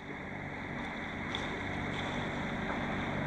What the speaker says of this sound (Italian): Stiamo andando a motore, abbiamo tirato sulla randa.